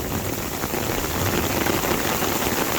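Heavy rain pours down in a flooding storm, a dense, constant roar of drops beating on surfaces, loud and close throughout with no voices.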